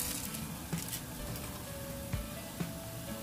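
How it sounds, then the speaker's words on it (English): Steady bubbling and sizzling hiss of water at a rolling boil in a pot for Jjapaguri noodles, close by, with a few faint clinks of utensils against the pot. "The water is boiling."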